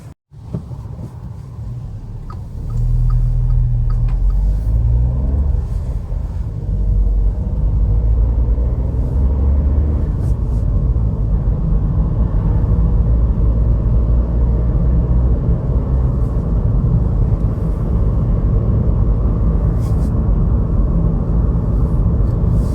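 Low continuous petrol engine rumble from inside a Skoda Citigo, steady and droning throughout, with road noise and no talking.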